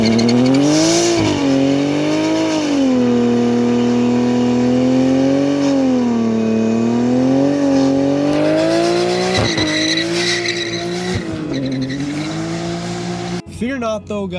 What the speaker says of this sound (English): you want to do a fat burnout.